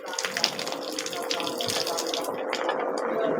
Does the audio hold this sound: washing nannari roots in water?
yes